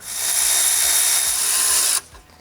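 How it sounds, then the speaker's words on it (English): Power tool loosening header bolts on a Fox Body Mustang, a steady loud whir running for about two seconds before cutting off, leaving quieter clinks of tools and metal. "All right, so now we just get to loosen all these bolts."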